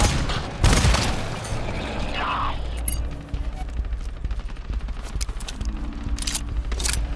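Gunfire from the co-op shooter GTFO, with bursts and booms scattered through a tense, crowded firefight, sounding loud and mid-distance.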